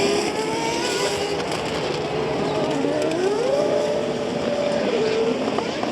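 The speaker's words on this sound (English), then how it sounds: "So cars on the final formation lap." Auto GP race cars on the formation lap at the Hungaroring, engines droning steadily from a distance with a rising and falling pitch, over a constant rush of wind and ambient noise.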